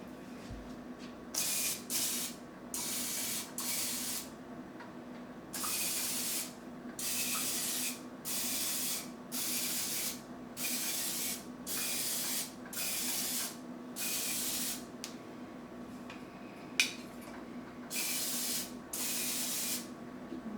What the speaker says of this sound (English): I need another light to make sure I'm spraying this evenly.